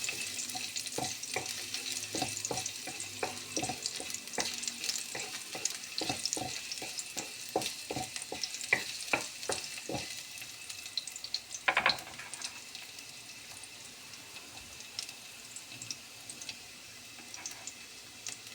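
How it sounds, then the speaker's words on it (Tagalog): Garlic and ginger sautéing in hot oil in a kawali, a faint steady sizzle with regular scraping stirs in the first half, then quieter frying. "Igigisa ko lang siya sa bawang at luya."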